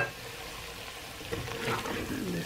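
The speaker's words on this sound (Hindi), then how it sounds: "पहले आलू जो है तेल में फ्राई किए हैं, फिर मसाले डाले, उसको भुना है" Spices fry with potatoes in oil in a pan, producing a continuous dense sizzle that grows slightly louder and busier toward the end, with no talking.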